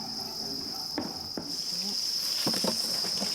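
Dense, high-pitched chirping of many crickets at a cricket farm, with a few soft rustling and scraping bursts as they are shaken loose from an egg crate.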